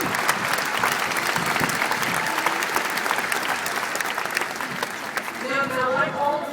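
Sustained applause from a large crowd at a university commencement, dense and steady, fading slightly at the end as a voice begins to speak.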